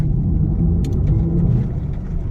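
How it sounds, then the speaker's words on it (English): Synthetic composed acceleration sound of an electric Mercedes-AMG EQS 53, a loud, deep, steady rumbling drone swelling slightly as the car speeds up, heard close with no voices. "with this new AMG EQS 53, there are some interesting noises that AMG has composed for it. So when you accelerate,"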